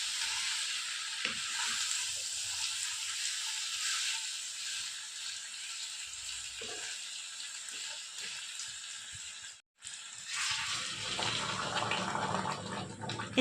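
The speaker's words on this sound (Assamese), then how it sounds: "এনেকৈ 10 মিনিটমান আমি মাংস আৰু কোমোৰাখিনিৰ সৈতে মাজে মাজে চেক কৰি ভালকৈ লৰাই দি মাংসখিনি আমি ভাজি ল'ম" Chicken and wax gourd fry together in a pan for an Assamese curry, giving a moderate, steady hiss with occasional stirring clinks, briefly dropping out before the sizzle returns louder.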